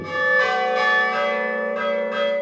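Village church bells ring out in Saint-Appolinard, several overlapping clear tolls with long humming resonance, struck in slow succession and sounding loud and close, with no voices.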